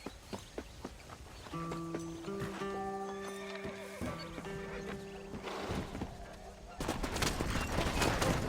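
Horse hooves and whinnies from Red Dead Redemption, a Western video game, heard with steady in-game music and background ambience, busier noise swelling near the end.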